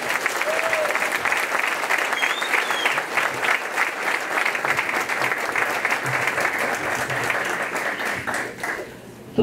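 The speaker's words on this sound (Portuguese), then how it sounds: "Então, salva de palmas, Dona Noêmia." Applause at a formal solemn session awarding the Tiradentes Medal to Dona Noêmia: a full room clapping loudly and steadily for about nine seconds, with a brief whistle or cheer early on, before it trails off.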